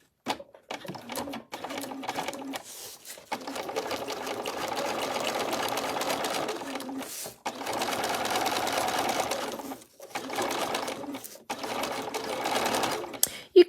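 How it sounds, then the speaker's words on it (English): A sewing machine stitches a vinyl bag seam in steady whirring runs, pausing briefly between bursts, fairly close but moderately quiet and with nothing else over it. "So we're going to sew"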